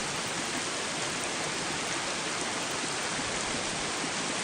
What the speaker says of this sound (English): White noise is a little bit too, it's too muddy.